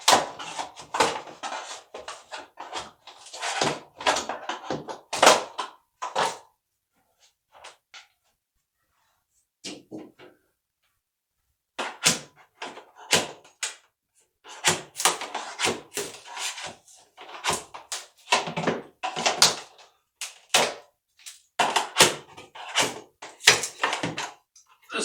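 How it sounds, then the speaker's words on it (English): Damaged wooden trim being pried and pulled out during bedroom demolition in a 1999 house: bursts of close knocks, thunks and scraping wood, with short quiet gaps between. "That trim has to come out because that trim is shot all the way through there. So I'll pull that out too."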